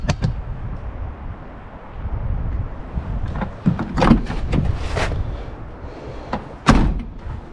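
A sagging driver's door on a 1988-98 Chevy C/K pickup with worn door pins and bushings is swung and shut several times, giving scattered metallic clunks and knocks with quieter gaps between.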